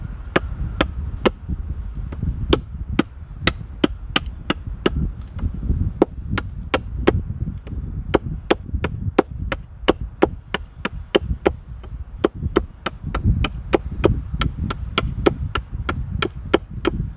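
A cutting tool bites into wood for a firepit crane, sharp regular chops repeating roughly twice a second over a low rumbling background, close and loud.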